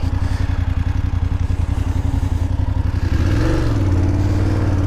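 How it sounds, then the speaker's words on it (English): Engine of a 2020 BMW F850GS Adventure motorcycle putting along with a steady pulsing beat, then rising in pitch as it revs and accelerates, loud and close. "This is a 2020 F850GS Adventure, or GSA."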